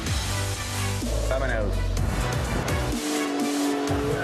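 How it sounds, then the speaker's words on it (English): A Maserati SUV engine rumbles and revs close by, rising and dropping in pitch, while people talk and exclaim over it. "Car sounds good."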